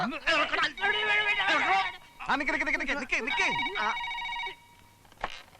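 A telephone rings in a Malayalam comedy film scene. A warbling, tonal ring sounds in bursts with a few pauses, loud and near, mixed with voices talking.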